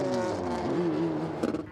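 BMW race cars on the Goodwood circuit during a motorsport demonstration pass with a revving engine note that climbs and shifts pitch, close and loud, with a brief burst of extra noise near the end.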